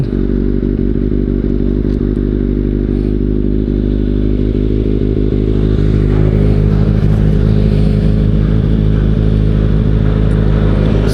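A Kawasaki Ninja ZX-6R sport motorcycle engine idles steadily up close, a loud, even low rumble with a faint rattle, running continuously without revving.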